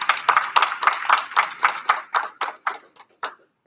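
An audience applauds graduating senior varsity debaters at a spring public debate; the round of clapping starts dense, then thins into a few scattered, separate claps before fading out.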